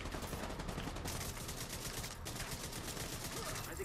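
Gunfire from The Division 2 video game sounds as a dense, sustained burst of shooting, a fast rattle of shots packed tightly together with little pause, loud and close throughout the few seconds.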